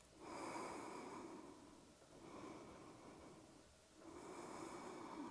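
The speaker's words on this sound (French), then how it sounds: "Une grande inspire." Deep breath drawn in during a Vinyasa yoga class, a slow, soft airy inhale swelling and fading in waves, close and quiet with no talking.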